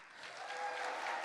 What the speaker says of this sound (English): That is the clapping I like to hear.